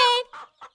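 A cartoon chicken clucks in a Malaysian animated series, one long harmonic squawk followed by two shorter clucks, close and clear with no talk over it.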